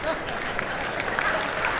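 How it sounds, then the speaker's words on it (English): Continuous audience applause from a television business pitch show, a dense steady wash of clapping heard throughout the short stretch. "He's getting applause,"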